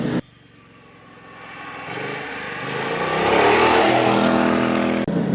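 The engine of a 2016 BMW C 650 Sport scooter swells from a low drone into a loud, rising acceleration whine over several seconds, then cuts off abruptly.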